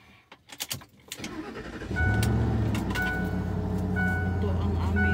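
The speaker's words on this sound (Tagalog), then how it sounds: "Kaya tayo ang maglalabas lagi ng sasakyan pag umaga." A car starts up in a home garage, cranking and catching before settling into a steady idle as it is readied to drive out; a person talks over the engine noise throughout.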